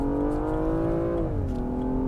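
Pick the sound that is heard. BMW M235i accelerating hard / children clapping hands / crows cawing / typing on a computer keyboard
BMW M235i accelerating hard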